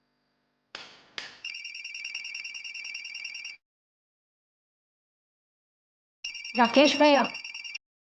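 A mobile phone rings in two electronic bursts with steady tonal beeping, the first preceded by short clicks and the second overlapped by someone speaking briefly.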